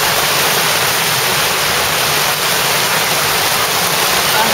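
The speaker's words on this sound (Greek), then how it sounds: "Πραγματικά πρόκειται για ένα ποτάμι εδώ στη γειτονιά μας." Floodwater rushes like a river through a neighbourhood street in Argostoli during an October storm, a loud, steady, unbroken roar of churning water filling the whole clip with no voices.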